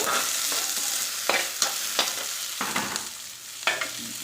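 Three tomatoes sauté in a hot pan, sizzling steadily while a spoon stirs them with repeated sharp scraping taps against the pan.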